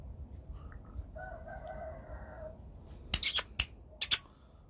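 Bangladeshi aseel rooster crowing once, a drawn-out call in a quiet setting, followed by a few sharp clicks and taps.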